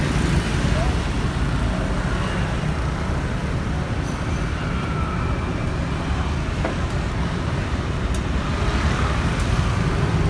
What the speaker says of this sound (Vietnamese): Đó, có xe hơi vô để mà chuẩn bị làm lễ đó.